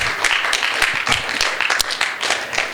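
A church congregation claps their hands during a sermon, a lively burst of many hands with distinct sharp claps standing out from the broad, steady patter.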